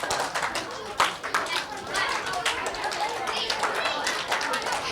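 Children at a camp clap in a counting concentration game, scattered sharp hand claps amid a busy roomful of voices and chatter, loud and close, with talk throughout.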